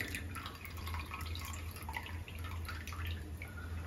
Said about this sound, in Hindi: यहाँ पे जो हमने चावल को पानी में रखा था एक्स्ट्रा पानी हम निकाल लेंगे